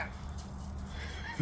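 A dog whimpering on a walk, soft steady whining tones with a brief louder yip near the end, against outdoor background noise.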